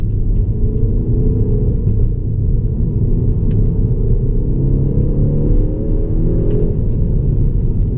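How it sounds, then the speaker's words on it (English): A 2016 Peugeot 308 GTI with a 1.6-litre engine pulls uphill in third gear, a loud steady in-cabin engine drone with the pitch rising slowly under load. "That's third gear pulling up a hill."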